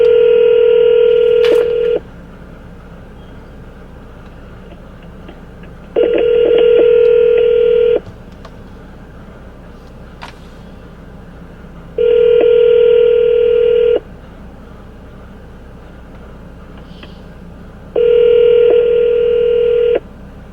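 A phone call rings out unanswered in a steady pattern, two-second ringback tones repeating every six seconds over a faint background hum, no talking.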